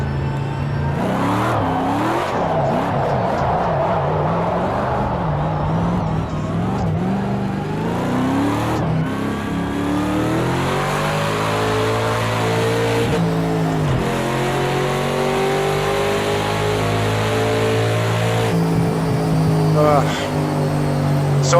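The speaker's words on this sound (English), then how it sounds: "So I'm listening to Chelsea's car here with that 600 watt Yamaha sound system." Chelsea DeNofa's RTR FD Mustang drift car in Project Cars 2 revving hard, the engine climbing and falling in long sweeping pulls with tire squeal, loud and continuous, while a person talks over it.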